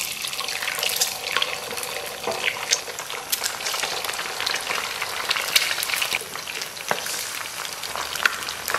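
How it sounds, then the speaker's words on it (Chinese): Eggs fry in leftover pork-belly oil with a continuous crackling sizzle, loud and close, with sharp pops and some scraping and stirring throughout. No one speaks. "简单煎个鸡蛋。"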